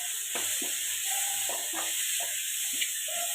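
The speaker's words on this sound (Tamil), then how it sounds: "துருவி வச்சுருக்க பீட்ரூட்டை தட்டி கொஞ்சம் வசக்கிட்டு கொஞ்சம் மஞ்சள் பொடி போட்டு மூடி வச்சிடணும்ண்ணா" Grated beetroot sautéing with turmeric powder in a pan, a soft steady sizzle under a series of quick scraping and tapping strokes from a spatula, close and fairly quiet.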